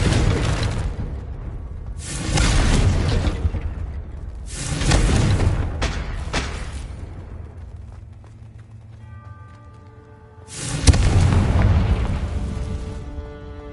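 Confringo fire spell explosions in Hogwarts Legacy on PS5: four heavy, booming blasts spaced a few seconds apart, each rumbling and decaying, with quieter game ambience and tonal chimes between them.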